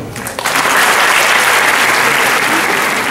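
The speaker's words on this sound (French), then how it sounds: "je vous demande d'applaudir très fort tous les participants" Loud, sustained applause from a large audience fills the whole stretch after a brief quieter moment at the start.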